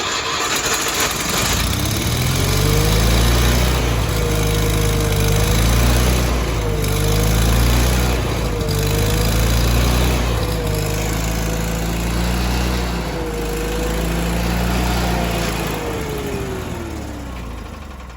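An old Chevy truck engine, freshly tuned with a choke, runs loud and close after starting, a low rumbling idle whose pitch rises and falls in repeated revs over a steady growl.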